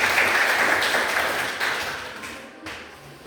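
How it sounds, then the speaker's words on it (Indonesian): A classroom audience claps steadily for a student, the applause holding for a few seconds before tapering off. "Tepuk tangan buat Esther."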